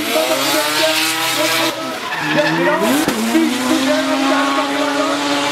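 A drift car at Gatebil Rudskogen screams with rising engine revs and long squealing tyre slides, loud and close, a sharp transient midway before the engine note climbs again.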